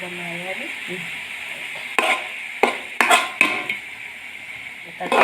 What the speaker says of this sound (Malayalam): ചിക്കൻ വറവ് ആയി വരുന്നുണ്ട്